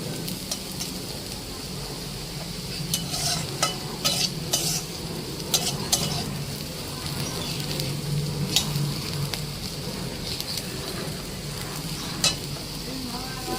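Bitter gourd and potatoes frying in a wok, a soft continuous sizzle broken by sharp scraping and clinking as the spatula stirs, fairly quiet and close, with no talking.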